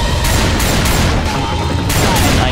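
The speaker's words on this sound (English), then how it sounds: "Fireworks are pretty," Fireworks going off in the video game Left 4 Dead 2, a dense, loud run of crackling bursts and booms in quick succession that fills the whole stretch.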